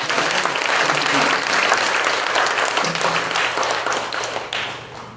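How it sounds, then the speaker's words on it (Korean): A church congregation claps together at a pastor's installation thanksgiving service, with steady, dense applause sustained throughout, loud and close, fading slightly toward the end under a faint low hum. "박수 치고 아멘"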